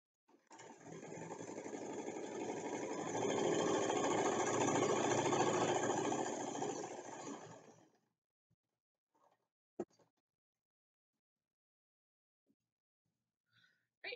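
A sewing machine stitches fabric for a pincushion, giving a steady, close whirring hum that runs for about eight seconds and then stops, followed by a few faint clicks.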